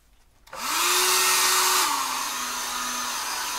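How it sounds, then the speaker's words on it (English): A hair dryer switches on after a moment of quiet and runs with a loud, steady whoosh and hum while drying watercolor paint, its pitch dropping slightly partway through. "So let me hit the hairdryer on this next."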